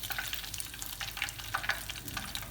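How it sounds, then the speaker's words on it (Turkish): Steady crackling and popping of breaded chicken frying in hot oil, with scattered sharp spits over a continuous sizzle, close by and fairly quiet. "Bu şekilde kızarması yeterli."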